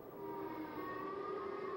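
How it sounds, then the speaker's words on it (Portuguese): Tornado warning sirens wail as a steady, sustained tone, with no voices heard. "Enquanto as sirenes de tornado tocavam"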